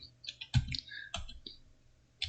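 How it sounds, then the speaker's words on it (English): Clicky computer keyboard keys tapped in short, uneven bursts, with sharp close-up clacks separated by brief pauses and no talking. "yes, you hear me typing."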